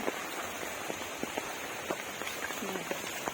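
Heavy rain pours through the night at a Thai home, a steady dense hiss with scattered louder drops striking nearby surfaces; floodwater is collecting around a newly built chicken coop and banana plants.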